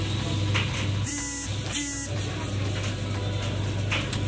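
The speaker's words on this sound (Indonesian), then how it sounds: "kita pencet startnya di sini, kemudian mesin nyala" A Galanz clothes dryer starting up and running, with a steady low mechanical hum, a couple of brief bright electronic beeps or clicks near the start, then continuous even drone, fairly quiet and close.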